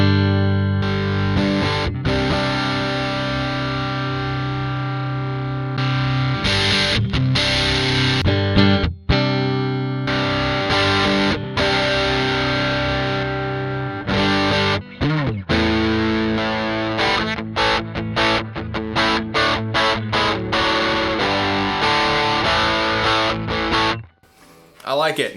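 Electric guitar through the Screamer overdrive on a Sonicake Matribox 2, gritty distorted chords and riffs played continuously for a long stretch, with quick choked stops and a fade near the end.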